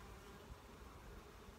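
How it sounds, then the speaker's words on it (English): A bee buzzing around beehives, a faint, continuous low drone heard alone with no talk. "That bee buzzing around me."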